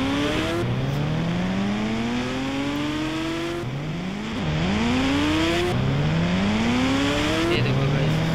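A motorbike rides in the game Indian Bikes Driving, its engine repeatedly revving up through rising gear pitches and then dropping as it shifts, loud and continuous throughout.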